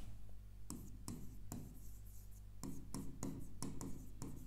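Writing on a board, a series of sharp, irregular scratching strokes close by, separated by short pauses, over a low steady hum.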